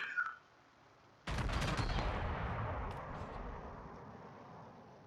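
A warship's heavy guns fire a thunderous salvo in a naval battle game, the ARP Kirishima; a sharp blast at once gives way to a long rumbling roar that slowly fades, after a brief quiet tone.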